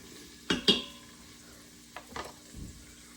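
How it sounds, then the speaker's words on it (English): Vegetables are sauteed in a pan with a soft background sizzle, broken by a few clattering scrapes of a utensil against the pan in short clusters. "So we're just going to saute those"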